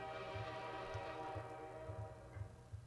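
A faint train sound effect from the video game Portal 2, with low rhythmic rumbling thumps under a sustained horn-like tonal drone.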